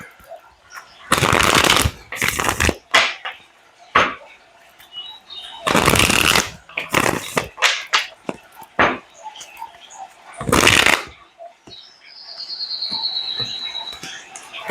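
Cards shuffled close up in several bursts of riffling flutter separated by pauses, with small taps and handling noises between, then a faint high whine.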